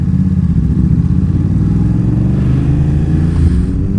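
A BMW F900R motorcycle engine braking, a loud, close, steady low mechanical drone with a rapid pulsing engine note that eases slightly toward the end, heard alone.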